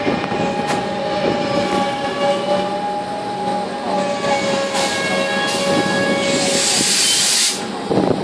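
A Melbourne PTV suburban train on the Frankston line pulls into Richmond station with a steady rumble, hissing brakes and tonal whine, close and loud, with no talk over it.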